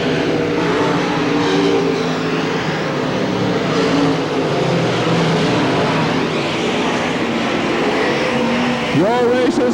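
Stock cars race around Hamilton County Speedway in 1993, a continuous loud roar of engines filling the track, while an announcer's voice carries over the noise.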